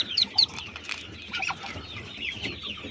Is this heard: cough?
no